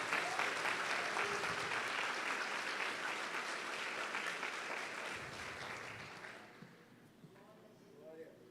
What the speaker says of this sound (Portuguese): Então é esse homem que eu quero que você aplauda, Jesus, pela vida dele.